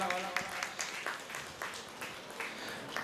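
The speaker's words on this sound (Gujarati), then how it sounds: "એમને પણ જોરદાર તાળીઓથી વધાવો મારા વાલા." Applause from listeners at a Shrimad Bhagwat Katha religious discourse, faint scattered clapping running steadily for a few seconds at a distance.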